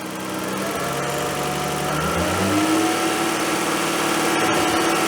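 A Holden VL turbo engine revs up from idle, its tone rising and climbing steadily into a loud, sustained drone that holds near and even without any talk.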